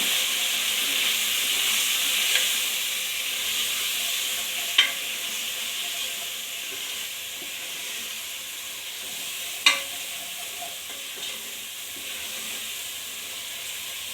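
Biryani rice mixed with chili powder and coriander leaves sizzles steadily in a pan, a constant hiss of frying with a couple of sharp scrapes as it is stirred, alone with no talk.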